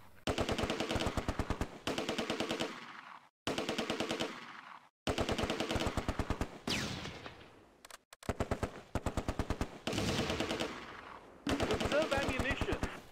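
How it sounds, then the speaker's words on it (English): A Vickers machine gun fires in the Close Combat World War II game, rattling out a series of rapid bursts a second or two long. The bursts are separated by short pauses and come loud and close, with no talking. "The Vickers opens up on the Sturmgrenadier squad crossing the main road"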